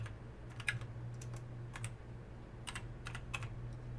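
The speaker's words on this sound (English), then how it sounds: "So we're gonna type in friendship." Clusters of light keystrokes click on a computer keyboard in quick bursts with short pauses, quiet and close, with no talking.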